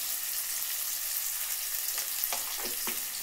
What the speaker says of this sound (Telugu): మనం ఇప్పుడు ఆనియన్స్ వేస్తున్నాం